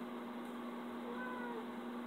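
A female Manx cat with a tail meows close by, a steady tonal call that holds for about two seconds over a constant background hum.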